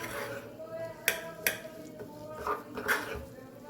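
A spoon scrapes and clinks against a bowl while Kashmiri chili powder is mixed into a small amount of oil, with two sharp metallic taps followed by softer stirring scrapes, close and moderately loud.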